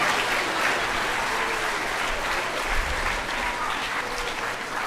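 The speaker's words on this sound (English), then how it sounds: "let's give the band for the national anthem, our chorus, orchestra, a huge round of applause" A school assembly crowd applauding a band, chorus and orchestra after the national anthem, loud continuous clapping from a large audience that fills the whole stretch.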